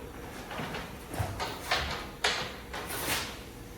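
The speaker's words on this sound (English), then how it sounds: "because they open like barn doors" The hinged barn-style doors of a pickup truck's tool box open with several sliding, scraping swishes and light knocks, close and fairly quiet, with no talk.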